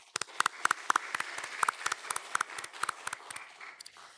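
A church congregation gives a round of applause during a Sunday service to send off departing staff, with sharp claps in an uneven, thinning rhythm that tapers off over a few seconds.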